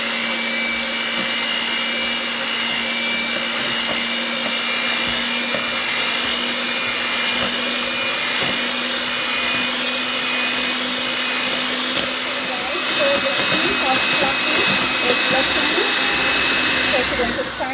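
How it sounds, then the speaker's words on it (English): An electric hand mixer whirs steadily at medium speed through waffle batter in a bowl, a loud, continuous motor drone with a constant pitch that grows rougher near the end, close by, while people talk over it. "So we're going to turn off the mixer now."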